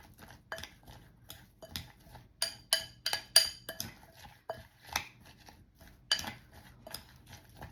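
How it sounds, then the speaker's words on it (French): A spoon stirs a nutty pudding in a bowl: quiet, irregular clinks and scrapes of metal against the dish, close by, with no voices. "je commence déjà un petit peu à mélanger d'abord"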